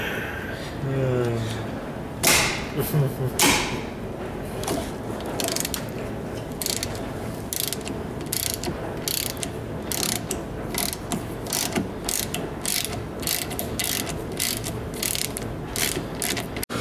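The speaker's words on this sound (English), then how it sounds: "the next step is to remove the caliper bolts" During a brake job, a ratchet backs out brake caliper bolts with repeated close clicking bursts in a steady rhythm, while people talk now and then in the background.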